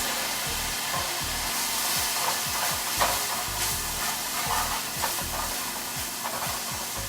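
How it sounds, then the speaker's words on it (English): Chard and garlic sizzle and crackle loudly and continuously in a hot pan, with stirring scrapes underneath and no voices. "listen to the sizzle"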